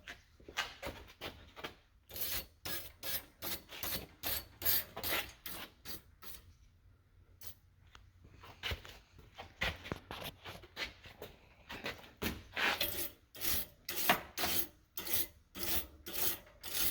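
Stiff brush rasping over a hand-forged iron rose, worked freehand with hands switched partway: dense bursts of quick scrubbing strokes, close and loud, with short pauses between passes and no talking.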